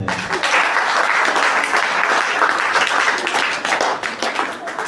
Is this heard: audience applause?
yes